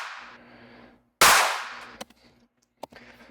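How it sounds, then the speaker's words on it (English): A layered clap sample built for heavy dubstep drums hits once as a sharp, loud crack with a quick decaying tail, followed by a few faint clicks, standing alone after a brief tone. "then we have a clap that I just layered a few claps together"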